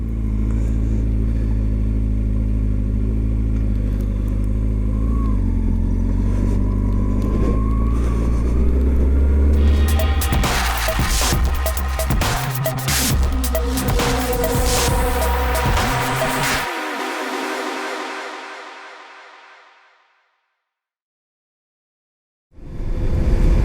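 A 2019 Kawasaki Ninja ZX-6R engine warms up loud and close, a steady idle that swells into busier revving before cutting off abruptly, leaving silence until a brief burst returns at the very end.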